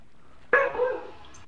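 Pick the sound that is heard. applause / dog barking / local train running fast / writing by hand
dog barking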